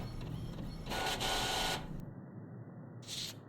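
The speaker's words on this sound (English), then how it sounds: "Anybody else dance to the printer sounds?" A printer in The Mortuary Assistant horror video game whirs and buzzes through a mechanical printing pass, a louder burst near the start and a brief final whir, close and alone.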